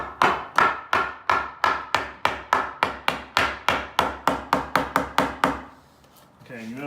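Wooden hammer-style blows strike the boards of a 2x8 lumber workbench, about eighteen sharp, evenly spaced knocks in a steady rhythm, close and loud, before they stop and a brief murmur of voice follows.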